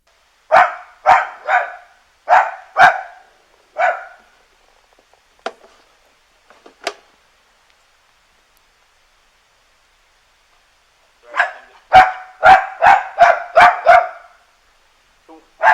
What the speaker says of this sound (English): the dog's going to be barking loud because he's still trying to alert the police